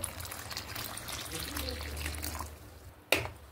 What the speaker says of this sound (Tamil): இப்போ நான் 1 கப் தேங்காய் பால் ஊற்றுறேன்